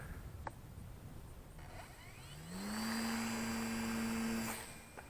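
Electric motor of an XK A280 P-51 Mustang RC plane with a new prop and modified spinner, flying at about 60% throttle; a faint whine climbs in pitch and holds steady for a couple of seconds before fading, somewhat distant.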